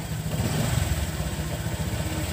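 A Honda Click 125 scooter engine, freshly cleaned and washed, running with a light throttle blip, a steady close buzzing putter that holds an even level throughout.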